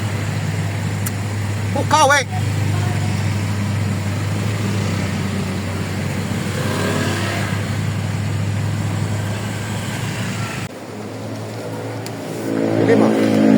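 Road traffic flows past at JIL, a steady roar of cars driving by with a low engine hum, a brief horn-like tone early on, and people talking over it.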